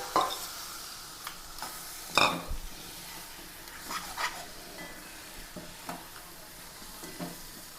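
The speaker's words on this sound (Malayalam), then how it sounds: "ഇതിലേക്ക് ഞണ്ടിട്ട് കൊടുക്കാം." Crab dropped into a hot pan, sizzling softly with scattered stirring scrapes and clatters, moderately close and without voices.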